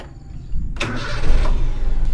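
A Toyota Kijang carbureted engine cranks with a broadband burst, then catches and settles into a steady low idle without throttle, close and loud.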